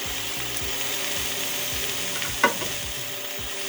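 Thai green curry with coconut milk sizzles in a pan while it is stirred back and forth, a close, steady frying hiss under the repeated scrape of the utensil, with one sharp knock.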